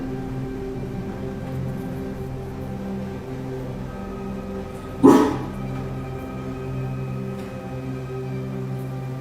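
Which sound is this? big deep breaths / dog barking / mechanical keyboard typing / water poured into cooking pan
dog barking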